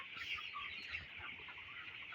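Chickens clucking steadily on a poultry farm, a dense flock chorus of overlapping clucks and murmurs that stays fairly close and continuous, with no talk.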